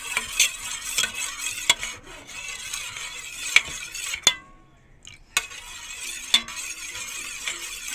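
A homemade coconut hair oil being mixed in a bowl, with repeated scraping and rubbing strokes of a utensil against the container, sharp clicks at intervals and a brief quiet pause in the middle.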